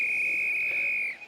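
A loud, steady whistle at a rodeo at the Sydney Royal Rodeo Series sounds for over a second to signal the end of a ride on a horse, then cuts off, standing alone with no talk.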